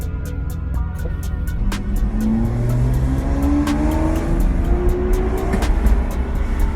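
Ferrari V12 with a freshly made custom exhaust revs up loudly and close, its rising engine note climbing in steady sweeps over a continuous rumble with no talk.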